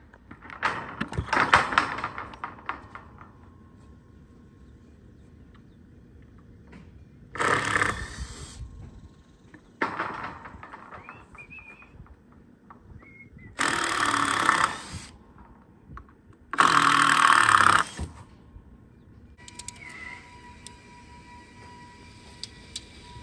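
Power tools cutting a new board to length and screwing it into place, heard as several loud, separate bursts of whirring and buzzing a few seconds apart, with quieter handling and knocking between them.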